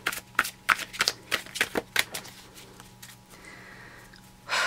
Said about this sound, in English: The shuffle's taking forever.